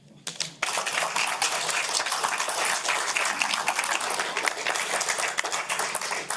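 A crowd at a public meeting about reappointments to the Corinth-Shiloh tax district breaks into dense, steady applause after a brief quiet start, continuing loudly and evenly throughout.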